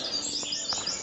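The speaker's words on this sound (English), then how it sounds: "I can hear the geese, all the birds, the" Birds chirp and sing in a forest in the early morning, with small high calls that sound thin and distant over a soft background wash.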